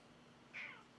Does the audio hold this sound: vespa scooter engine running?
no